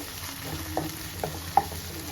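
Chicken with ginger garlic paste fries gently in a pan, giving a low, steady sizzle. Three light stirring knocks of a spoon against the pan sound close by, with no talking.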